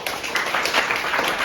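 A church congregation clapping loudly together in praise during a Christian prophetic worship service, a dense, steady wash of hand claps filling the whole moment without pause.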